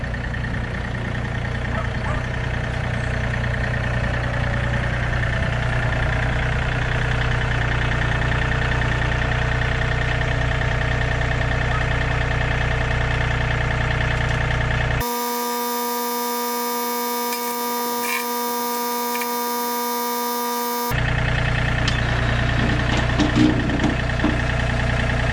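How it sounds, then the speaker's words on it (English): A John Deere 3025E compact tractor idles nearby with a steady low engine drone and a constant hum, running without a break and without talk. A loud electronic tone cuts in over it for a few seconds midway. "got the tractor here, a 3025E"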